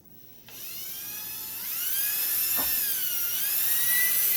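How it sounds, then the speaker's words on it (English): Power drill boring a hole for a grommet in a mead fermenting vessel, a steady high whine that starts abruptly and climbs slightly in pitch, loud and close with no talking. "we're going to drill a hole, we're going to put in a grommet"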